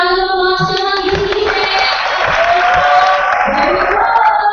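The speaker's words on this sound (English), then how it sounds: "Let's give you a round of applause to Mrs." Applause and cheering from an audience at a climate hackathon event in Manila, dense and steady throughout, with voices mixed into the crowd noise.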